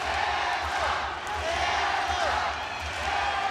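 Arena crowd at a sold-out fight in Ryogoku Kokugikan, a loud, continuous roar of cheering with a steady low thumping underneath.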